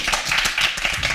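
Studio audience applause at a comedy game show taping, a dense, steady patter of many hands clapping that fills the room at moderate loudness without pause.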